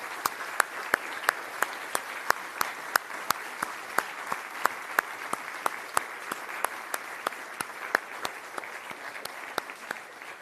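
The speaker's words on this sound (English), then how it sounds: "A big round of applause." Audience applause at an economics award session, a steady wash of clapping throughout with sharp periodic clicks standing out above it.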